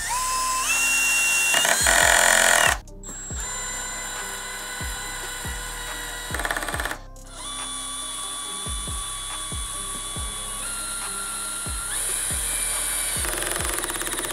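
12V installation drills from Bosch, DeWalt and Milwaukee spinning at a higher speed setting, a sustained high whine that shifts pitch and pauses briefly, with repeated sharp clutch-like ratcheting clicks throughout.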